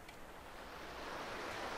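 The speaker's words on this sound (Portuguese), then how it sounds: "Que legal, tem uma cachoeira aqui" A waterfall in The Sims 4 gives a steady, soft broadband rush of falling water, faint and continuous with no other sounds.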